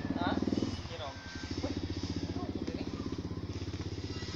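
A scooter engine runs steadily up close with a rough, pulsing idle, while people talk over it throughout.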